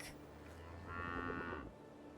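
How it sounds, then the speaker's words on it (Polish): A creature in the video game Avowed, resembling a buffalo, zebra and bird at once, gives a low, drawn-out cow-like moo, faint and in the distance. "Jednocześnie muczy jak ten, krowa."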